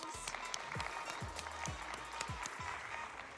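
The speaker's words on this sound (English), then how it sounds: "And give her a round of applause." Applause from an audience at a children's storytelling event, a steady patter of clapping throughout with low voices and thumps mixed in underneath.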